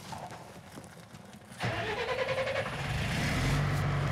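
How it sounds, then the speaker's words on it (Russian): A Typhoon-VDV armored vehicle's engine cranks briefly and then catches, settling into a loud, rumbling idle that holds steady and grows heavier toward the end. "Специально для таких недоверчивых мы открываем наш броневик. И заводим двигатель."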